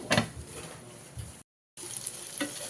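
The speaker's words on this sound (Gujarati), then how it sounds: "આ રીતે હવે આપણે આને તેલમાં સાતળવા દેવાનું છે" Stuffed okra frying in oil in a covered pan gives a steady, crackling sizzle with small pops, briefly cut out midway before the close frying hiss resumes.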